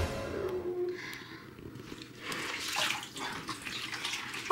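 Water runs steadily from a household tap into a container being filled, a continuous splashing rush that shifts in tone as the level rises, heard alone without talk.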